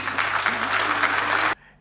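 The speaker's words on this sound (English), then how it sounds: "A round of applause for them, please." A burst of crowd applause, dense and steady, that cuts off abruptly after about a second and a half, leaving a low hum.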